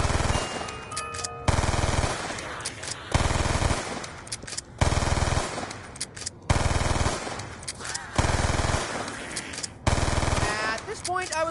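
In the video game Black Ops II, a full-auto shotgun fires in about seven close, loud bursts of rapid blasts, each separated by short pauses.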